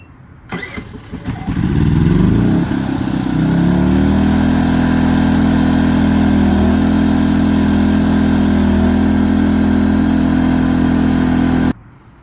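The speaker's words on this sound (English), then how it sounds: "So let's start the engine." A gasoline engine on a portable generator used to charge an EcoFlow Delta Max solar generator cranks, catches and settles into a loud, steady, close running drone that holds for about ten seconds, then cuts off abruptly.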